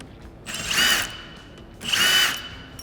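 A power drill works hardware out of the clamps of a SuperATV MaxDrive Power Flip windshield for a Kawasaki Teryx, with two loud, close whirring bursts of about half a second each separated by a short pause.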